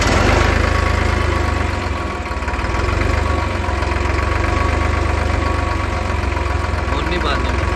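A New Holland 3630 diesel tractor engine runs steadily at idle, a loud, close, rough chugging with a constant knocking rhythm and no break throughout.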